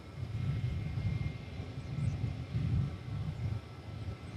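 Jet engines of a United airliner waiting at DFW Airport before takeoff give a faint, distant low roar that swells and eases in slow pulses, heard alone without talk.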